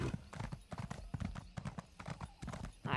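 Horse mount in The Elder Scrolls Online, hooves clip-clopping in a quick steady rhythm close by, alone without talk.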